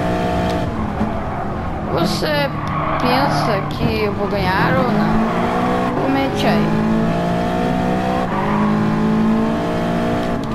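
Race car engines roar continuously in a racing video game on the Sardegna track, with revving, shifting pitch and occasional tire squeal, loud and constant beneath someone talking excitedly throughout.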